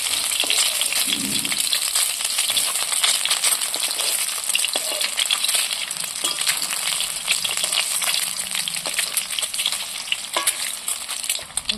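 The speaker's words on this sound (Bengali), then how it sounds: "অল্প একটুখানি এই তেলে হালকা তেলে হালকা করে ভেজে নেব উল্টিয়ে দিচ্ছি একটা করে" Prawns fry in a small amount of oil in a pan, giving a steady bright crackling sizzle with scattered pops and stirring clicks throughout.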